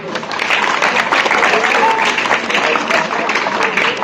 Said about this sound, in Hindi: तो अपने लिए एक बात ताली बजा दो